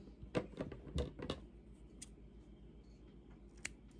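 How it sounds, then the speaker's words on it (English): A few quick snips of scissors cutting crochet yarn close by, clustered in a short burst, then quiet with a faint click or two. "just gonna snip a little bit off"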